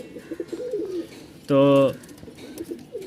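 A caged pigeon, a Rajshahi Giribaz, gives one loud, close coo lasting about half a second, between stretches of someone talking.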